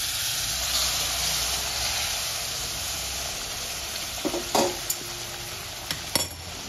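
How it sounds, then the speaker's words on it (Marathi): Boiling water is poured onto roasting semolina for guava halwa, giving a steady loud hiss and sizzle with a few sharp clinks of a spoon against the pan near the end. "आता आपला रवा भाजत आलेला आहे आणि आपण त्याच्यामध्ये उकळतं पाणी घालायचं आहे"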